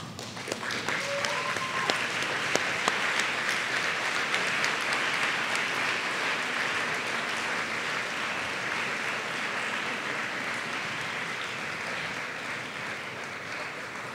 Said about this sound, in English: give them a round of applause for helping you get to where you are today.